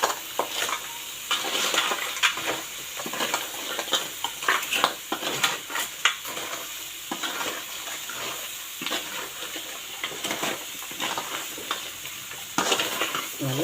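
Crab stir-fried with masala in a pan: continuous sizzling and watery hiss with repeated scraping and clinking of a utensil against the pan, fairly close and steady, with no talk.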